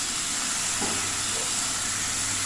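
Chicken bits browning in a cast iron skillet on a Coleman camp cookstove, a steady soft sizzle and hiss running evenly throughout with a faint low hum underneath and no talking.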